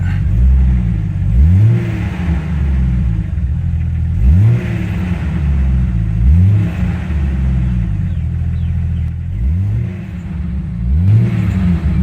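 A Jeep Cherokee XJ engine, freshly fitted with upgraded fuel injectors, revs repeatedly in loud, close rising-and-falling bursts over a steady idle rumble, with no talking.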